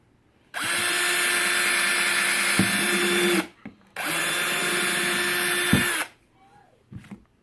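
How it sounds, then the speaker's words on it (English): A power drill whines steadily in two long, loud runs with a short pause between, drilling holes in a worm composting bin, then stops; faint movement follows. "I'll hold the box for you while you drill the holes."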